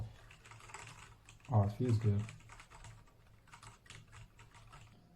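Typing on a Redragon K673 PRO 75% mechanical keyboard, with soft keystrokes running under a person's brief speech, the clacking strongest in the middle as a voice speaks over it.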